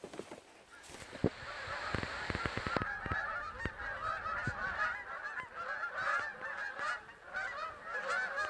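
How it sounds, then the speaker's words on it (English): Migrating geese honk in midwinter near a lakeside trail, a busy chorus of calls at moderate distance that carries on throughout, with some sharp knocks and rustles up close at the start. "Why are the geese migrating right now in the middle of January?"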